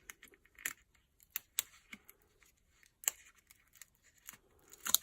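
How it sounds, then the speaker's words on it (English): Backing peeled off a Velcro sticky dot, a few sharp, faint crackles and ticks spaced apart in a quiet room, with no talking. "Peel off the bottom."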